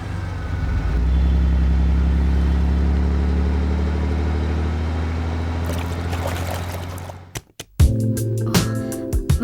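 A big vehicle drives along Mount Road with a steady, loud low engine rumble that holds for several seconds and then fades out, giving way to sharp, scattered clatters and knocks.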